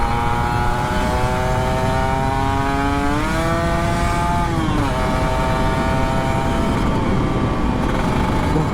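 Kawasaki Ninja RR 150 two-stroke motorcycle at full throttle on a long road, a loud, sustained high-pitched engine whine that climbs in pitch, dips briefly around a gear change, then holds steady and close.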